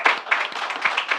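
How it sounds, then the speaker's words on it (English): Applause at a film press conference, a dense burst of many hands clapping steadily and close. "let's have, I think, a thunderous round of applause"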